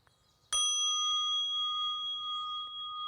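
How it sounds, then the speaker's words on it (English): A single strike of a mindfulness bell rings out loud and clear, its pure metallic tone holding steady and ringing on without voices, set in a native garden. "listen to the sound of the bell 3 times and listen to it disappear into the distance"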